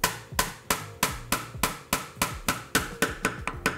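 Wooden mallet striking a chisel to chop out dovetail waste in a wooden board, a dozen sharp, evenly spaced knocks with ringing decay, close and loud with no talking.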